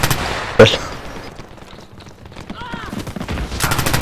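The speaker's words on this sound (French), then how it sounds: "Fusil à pompe à bout portant." A shotgun fired at point-blank range in a video game, one sharp loud blast near the start followed by scattered distant gunfire and game sounds.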